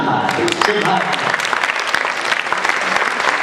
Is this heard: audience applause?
yes